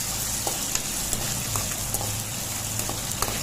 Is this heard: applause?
no